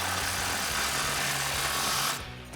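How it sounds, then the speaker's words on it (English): Upper control arm ball joint nut on a 2024-2026 Toyota Tacoma being tightened with a 19mm wrench during a coil-over install: a steady, close, continuous mechanical whir with faint low ratcheting pulses, stopping abruptly near the end. "now we can tighten up our upper control arm ball joint nut with our 19mm"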